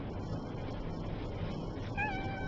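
A house cat gives a short, faint meow near the end of a quiet, noisy indoor stretch, with no talk.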